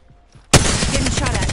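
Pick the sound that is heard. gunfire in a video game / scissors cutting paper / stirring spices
gunfire in a video game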